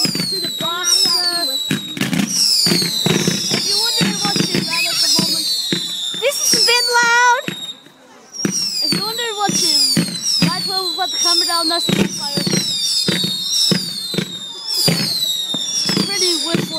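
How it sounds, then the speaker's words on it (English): A fireworks display, set off from a box, fires a rapid run of whistling rockets, their shrill rising and falling whistles cut by sharp cracks and pops. Near and loud, with a brief lull midway and some talk in the background. "Pretty whistling fireworks there."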